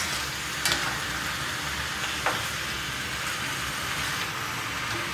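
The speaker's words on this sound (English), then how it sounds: "now that this is starting to kind of sizzle a little bit" Low, steady sizzling of pork chicharrones frying in a pan, with a couple of faint clinks over the constant crackle; no voices.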